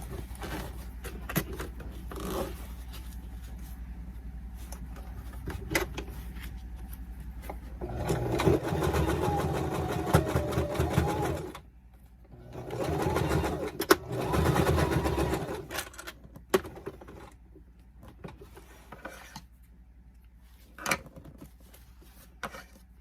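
A domestic sewing machine stitches fabric for a zippered pouch set in bursts: a steady motor whir with rapid needle patter, a long run near the middle, short runs and pauses either side, close and fairly loud.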